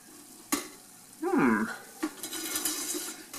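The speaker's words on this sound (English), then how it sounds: "I got some sizzling popcorn with a few kernels that flew up" Popcorn sizzles softly in a Great Northern Popcorn Company Twister stovetop popper with wooden handles, with a few sharp pops and a brief metallic scrape of stirring.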